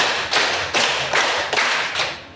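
Students in a classroom clapping game, about five loud group claps in an even rhythm, sounding like a crowd of hands close by.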